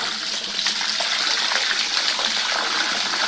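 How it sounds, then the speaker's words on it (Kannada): Water gushes steadily near a house where a pipe was recently laid, a loud, continuous rushing close by with no pauses and no voices. "ನೀರಿನ ಶಬ್ದ ಕೇಳ್ತಾ ಇರಬಹುದು ನಿಮಗೆ"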